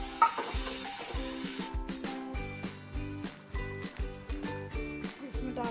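Tomatoes hit a hot pan with a bright, close sizzle in the first couple of seconds, then the frying fades under rhythmic music with a steady beat.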